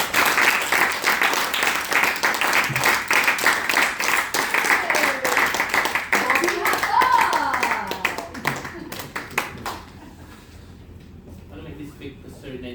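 Audience at a Toastmasters club meeting clapping loudly and steadily for about nine seconds before the applause thins out and fades, with a few voices mixed in.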